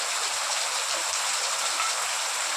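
Steady rain falling, a dense even hiss of drops without pauses, close and fairly loud.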